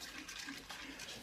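Liquid being stirred and mixed with vinegar and water in a container, a faint soft sloshing and swirling that lasts the whole short moment.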